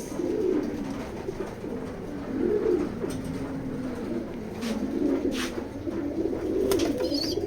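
A young racing pigeon coos in low, soft, repeated phrases against a quiet background, with a few faint clicks and rustles in between.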